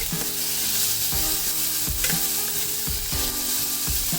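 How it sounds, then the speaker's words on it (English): Chopped onions and tomato sizzle steadily in a hot pan alongside ginger and green chilies, with a series of scraping stirs breaking through the constant frying hiss. "next we are adding some chopped onions and tomato,"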